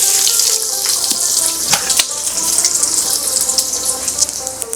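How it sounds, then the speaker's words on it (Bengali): Chicken cutlets deep-frying in a generous amount of medium-hot refined oil, a steady loud bright hiss with crackling pops and watery bubbling throughout, no talking. "তেল গরম হয়ে গেছে, আমি কাটলেটগুলো আস্তে আস্তে ভেজে নেব।"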